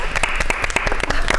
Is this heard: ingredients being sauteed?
no